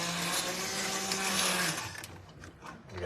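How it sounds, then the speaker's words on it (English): An immersion blender whirs steadily through a pot of sweet corn for a pasta sauce, loud and close, then the motor cuts out and fades into softer clattering. "We're just going to take our immersion blender."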